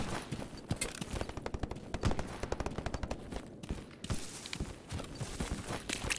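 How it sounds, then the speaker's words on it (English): Gunfire in S.T.A.L.K.E.R. GAMMA, with volleys of sharp rifle and automatic shots, some near and some distant, crackling irregularly over a noisy battlefield background. "We hear the gunfire intensifying."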